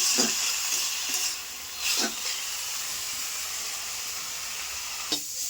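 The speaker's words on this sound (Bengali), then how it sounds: "আর সামান্য একটু হলুদ দেবো আর যে কাঁচা লঙ্কা এটা সামান্য একটু ভেজে নেবো" Green chillies frying with a little turmeric in a pan give a steady soft sizzle and hiss, broken by a few brief stirring scrapes, with no talking.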